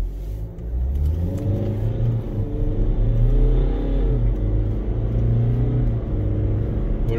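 A BMW X3 20d xDrive F25 diesel SUV accelerating, heard from inside as the engine note rises through the gears in stepped climbs, a steady loud drone with no talk.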